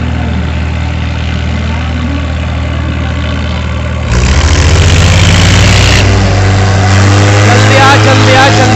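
Loud, heavy Mahindra 575 DI XP Plus and Swaraj tractor engines idle with a deep rumble at a tractor pulling match, then rev harder and roar louder partway through, with indistinct talk mixed in.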